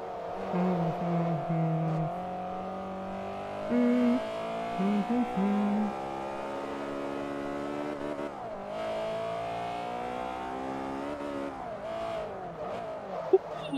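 A lightweight Class C race car in Forza Motorsport 3 on the Fujimi Kaido course, its engine whining steadily as it shifts and changes pitch, slowing and accelerating again, with a brief tire chirp near the end.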